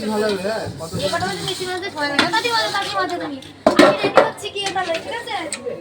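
Dishes being scrubbed and washed produce clinking pots and utensils with intermittent scraping clatter and a sharp metallic knock. People talk continuously over the kitchen sounds.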